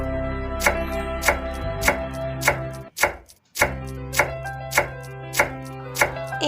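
A knife chops onion on a cutting board in a steady run of sharp, evenly spaced strokes about every half second, close and clear over soft background music, with a brief pause midway.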